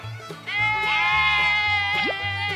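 A single sheep bleats loudly and close, a wavering drawn-out cry over a soft musical background.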